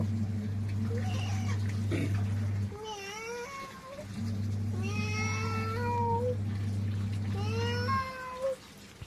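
A person imitates a cat meowing, giving three separate drawn-out mews with rising and falling pitch, heard over a steady low electrical hum.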